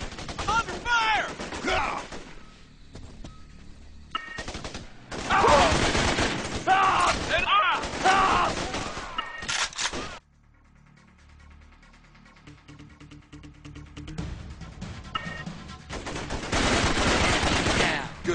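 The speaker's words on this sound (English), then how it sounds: "I'm under fire!" Gunfire in the video game Raven Squad, loud bursts of automatic weapon fire in several clusters, broken by a quieter stretch of rumbling battle ambience before the shooting picks up again.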